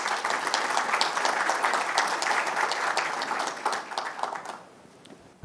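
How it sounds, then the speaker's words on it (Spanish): An audience at a forum on passenger transport during a cargo expo applauds a speaker taking the stage, dense steady clapping that thins out and fades away near the end. "Adelante, un aplauso para él."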